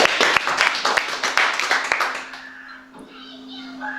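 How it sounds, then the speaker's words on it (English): An audience claps loudly at an informative speech, dense and close, then the applause thins out and fades to a few scattered claps and room noise. "everybody, stop clapping"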